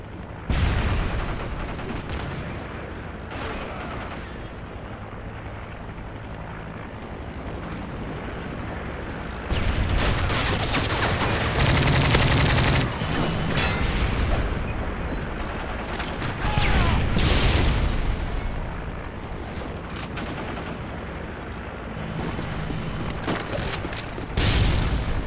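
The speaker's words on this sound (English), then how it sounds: "Airstrike approaching." Booming airstrike explosions and bursts of gunfire in a Modern Warfare multiplayer match, loud repeated blasts swelling over a continuous rumbling battle din.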